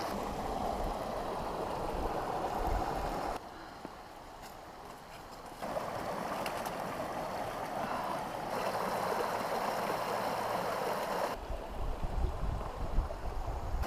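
River water flows steadily at a river crossing in the Rich Hole Wilderness, Virginia, a continuous broadband rush with shifts in level as the recording position changes, no voices heard.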